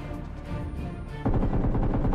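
Rapid gunfire rattles in a video game battle, bursts of quick shots that grow louder and denser midway, close and continuous with no talk over them.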